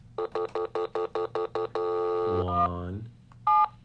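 A telephone keypad sounds a quick series of about nine short dialing tones, followed by a longer sustained tone and a brief warbling signal, clear and close.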